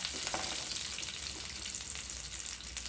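Dried red chilli sautéing in oil in a pan while thoothuvalai rasam is prepared, giving a steady close sizzle and crackle that runs without a break and with no talk.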